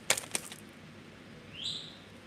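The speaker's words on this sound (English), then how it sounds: "And that's my bird in the background. I have an African gray, so she loves to be part of this channel." A pet African grey parrot in the background of a room gives a brief rising whistle, faint and distant, after a couple of quick tapping or fluttering sounds near the start.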